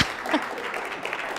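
Audience applause at a talk on how mindsets rule lives and the world, a brief, fairly soft burst of clapping that carries steadily through the moment with a faint voice briefly underneath.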